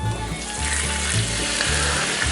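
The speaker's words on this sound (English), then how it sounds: "now that garlic's toasted just a little bit" Garlic toasting in a frying pan sizzles and crackles steadily at close range, with the soft scrape of stirring and no voices.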